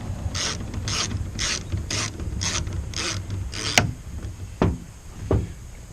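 A ratchet tightens bolts with a series of about seven quick, evenly spaced clicking bursts, followed by a sharp clank and two separate knocks, heard close and alone.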